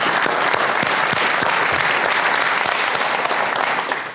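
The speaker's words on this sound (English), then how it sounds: "can you just give them a round of applause?" Audience at a startup demo day pitch event breaks into sustained applause, dense and even clapping from a sizeable crowd that tapers slightly at the end.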